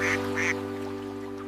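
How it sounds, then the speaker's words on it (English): A cartoon duck quacks twice in quick succession, loud and nasal, over a sustained musical tone from a children's nursery rhyme, with no talk. "Look! It's Della the duck and her babies crossing the river"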